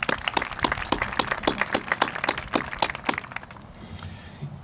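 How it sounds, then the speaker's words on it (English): Applause at a college graduation commencement ceremony: a scattered burst of crisp, close claps that thins out and fades to quiet within a few seconds. "Please join me in acknowledging him with a round of applause."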